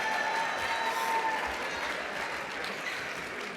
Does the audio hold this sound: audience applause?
yes